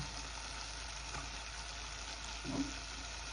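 Milk-cap mushrooms frying with onion, a faint steady sizzle in a pan, low and continuous with a small soft bump near the end.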